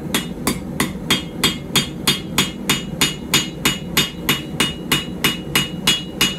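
Steady, evenly spaced hammer blows on a puukko knife blade being forged, about two or three strikes per second, sharp metallic impacts ringing out loud and close with no talk.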